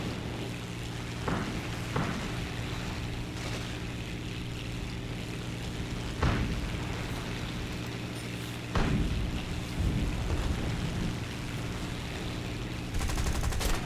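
Gunfire hitting a player's aircraft in the combat game War Thunder: scattered sharp impacts and bursts over a steady engine drone, with a denser rattle near the end.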